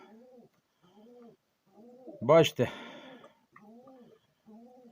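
Soft repeated cooing of Mykolaiv pigeons in a low rhythmic pattern, interrupted midway by a louder wing flutter or call burst; someone speaks briefly.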